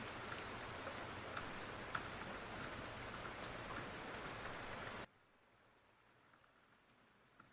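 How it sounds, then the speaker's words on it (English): Steady rain pattering on a surface, a dense even hiss with occasional louder drops, heavy for about five seconds before dropping abruptly to a much fainter drizzle. "Let me know in the comments if you enjoyed the rain sounds"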